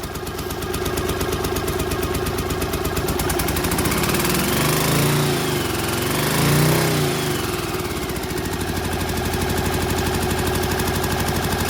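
A motorcycle engine with an aftermarket exhaust running steadily, a loud continuous droning rumble that swells briefly in the middle as if revved, then settles back to an even idle.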